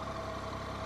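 Triumph Tiger 800 XRx adventure motorcycle engine idling with a steady hum, even and continuous with no change in pitch, heard up close.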